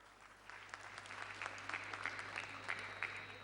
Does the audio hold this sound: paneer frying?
no